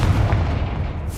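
A Confringo fire spell blast in the Hogwarts Legacy video game, a loud, dense low rumble that holds steady through the short moment, with no voices.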